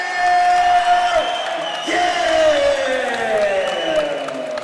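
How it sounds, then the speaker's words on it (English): A crowd at a live combat-sports fight night in Boxpark Liverpool applauds and cheers for fighter Waleed Butt, steady loud clapping and whoops sustained throughout, with an announcer's voice partly over it. "please a big round of applause for Waleed Butt"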